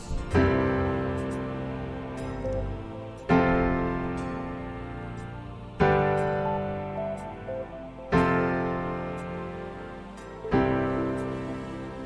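Deep, heavy piano bass notes in octaves with a fifth, struck firmly about every two and a half seconds and allowed to ring between strikes.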